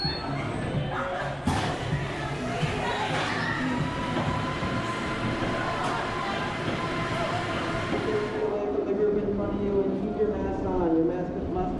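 The Superman roller coaster at Six Flags Great Adventure runs past with a rumbling, clattering roar of the train on its track, steady throughout and fading toward the end, with crowd noise in the background.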